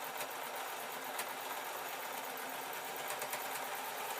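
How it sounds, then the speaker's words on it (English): A modern sewing machine runs steadily as it stitches a rolled hem on a purple bat-wing dress, a continuous even whir at moderate level with a few faint ticks and no talking. "I'm just going to ask the machine politely to sew the rolled hem"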